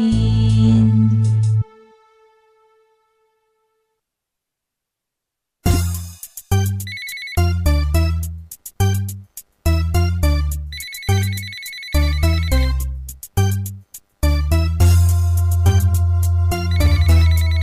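A telephone ring sounds within a 2007 Filipino pop song, with a sustained tone giving way to silence and then loud, repeated rhythmic ringing bursts over the music.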